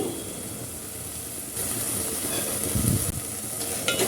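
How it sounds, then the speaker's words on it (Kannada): Cumin and black pepper rasam being stirred in a pot after ground masala goes in, giving a steady hiss and sizzle with soft scraping and a few louder stirring scrapes near the end, no talk. "ಮಸಾಲೆ ಹಾಕಿ ಆದಮೇಲೆ ಮಿಕ್ಸ್ ಮಾಡ್ಕೊಂಡಿದ್ನ"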